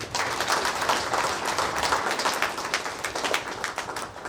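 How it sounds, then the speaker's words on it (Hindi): Congregation clapping after Mass at Rogo, Archdiocese of Ranchi, during a felicitation of bishops and priests: a steady patter of many hands, fairly close and continuous, with little talk over it. "आप लोग ताली बजाइएगा"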